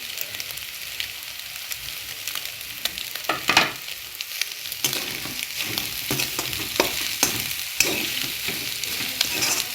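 Carrots and leeks stir-fried for kottu sizzle steadily in a hot pan, with frequent scraping and clattering stirs over the frying hiss.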